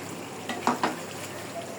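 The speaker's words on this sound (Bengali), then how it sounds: "এখন এটাকে একটু সুন্দর করে নাড়াচাড়া করে দিব।" Chicken curry with potatoes sizzles softly in a pan while being stirred, two or three quiet scraping strokes over a steady frying hiss.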